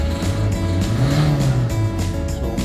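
Revving Peugeot 308 engine with a high-circuit misfire, held steadily around 4,000 rpm, a loud continuous drone with a slowly rising and falling pitch, close by and with no talking.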